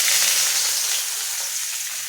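Chopped large onions sizzle steadily in hot oil with whole spices in a pan, a dense, even frying hiss with no talking.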